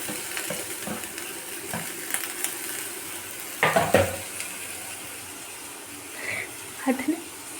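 Onions fry in a little oil for biryani, giving a soft, quiet sizzle with a few brief clinks of stirring and faint voice sounds now and then.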